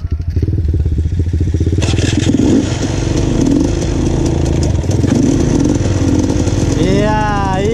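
A motorcycle on a night off-road trail ride runs loud and close with a rough, rapid engine note, revving up and down, while people talk and call out over it.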